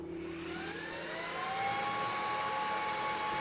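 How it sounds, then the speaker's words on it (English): A Creality Falcon2 Pro laser engraver homing: a steady motor whir with rising and falling whine tones, close and alone without talk. "Now I can home my laser"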